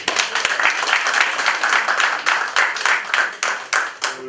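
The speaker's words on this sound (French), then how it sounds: "est-ce qu'on pourrait applaudir très fort les propos?" An audience at a press conference in Washington, D.C. claps loudly, the applause steady at first and then turning into rhythmic, unison clapping with distinct regular beats toward the end.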